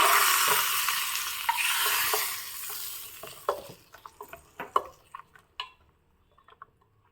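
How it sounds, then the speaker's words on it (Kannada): Tempering of mustard seeds, dry chilli, asafoetida and curry leaves hitting hot oil: a loud, dense sizzle that fades after a few seconds into scattered sharp pops and crackles, with no talking. "ಇವಾಗ ಇದಕ್ಕೊಂದು ಒಗ್ಗರಣೆ ಹಾಕ್ತಾ ಇದ್ದೀನಿ ಸಾಸಿವೆ ಒಣಮೆಣಸು ಎಣ್ಣೆ ಇಂಗು ಮತ್ತು ಕರಿಬೇವು ಹಾಕಿರೋ ಒಗ್ಗರಣೆ"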